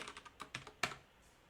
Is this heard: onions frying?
no